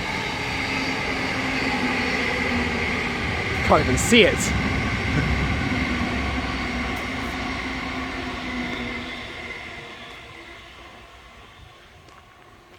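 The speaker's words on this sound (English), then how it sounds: "train passing" A train rumbles past steadily, loud at first and fading away toward the end, with a short spoken remark partway through.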